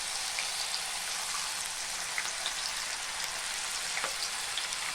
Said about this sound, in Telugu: మనం కట్ చేసి పెట్టుకున్న బనానా ముక్కలను అందులో వేసి ఫ్రై చేసుకోవాలి